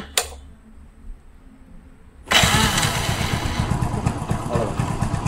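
A motorcycle engine, powered by a DIY LiFePO4 battery, fires up from a single kick after a brief quiet stretch, then settles into a steady, close, loud idle.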